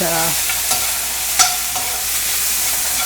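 Onions frying in a pan and being stirred, a continuous loud sizzle broken by a few light spoon scrapes, with no talk.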